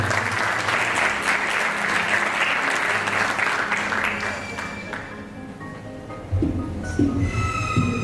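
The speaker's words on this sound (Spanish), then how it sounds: "Demos un fuerte aplauso" An audience at a medical conference applauds a speaker, a loud sustained clatter of many hands that tapers off, then a voice begins speaking over fading claps.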